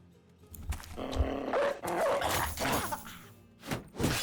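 A war dog released in a medieval mercenary strategy game, with several loud barks and growls mixed with clashing impacts, close and punchy.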